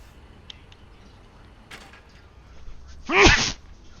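One loud, close sneeze bursts out near the end after a quiet stretch. Faint small clicks and rustles come before it.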